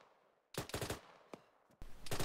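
Autocannon fire in the ArmA military video game: loud, rapid bursts of heavy rounds, a quick string of close booms, one isolated shot, then another burst.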